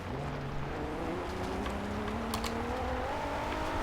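A 2014 Maserati Ghibli S in Forza Horizon 2 runs over gravel in third gear, its steady engine note climbing gradually under a constant layer of tire crunch and road noise, loud and close throughout.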